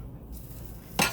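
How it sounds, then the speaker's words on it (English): Eggs are pushed around a pan on the stove during breakfast cooking, a soft, faint background hiss and scrape ending in a single brief, louder clink of a utensil against the pan. "Just push, sort of push them around in the pan at this point."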